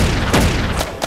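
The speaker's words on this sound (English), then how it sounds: "Ruff, tennis ball launcher!" A cartoon tennis ball launcher fires in a children's animated rescue show, giving a short whooshing pop followed by a couple of quick bright thumps, loud and close, with no speech.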